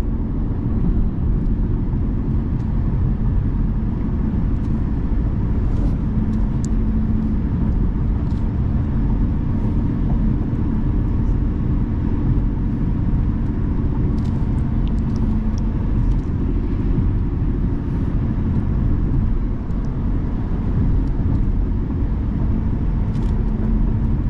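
A car drives along a road, a steady low rumble of engine and tyre noise held throughout, close and even with no talking.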